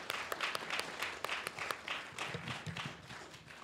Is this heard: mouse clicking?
no